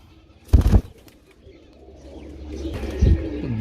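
Pigeons give two short, loud coos, one near the start and one near the end, separated by a quiet gap, with a faint background hum rising slightly.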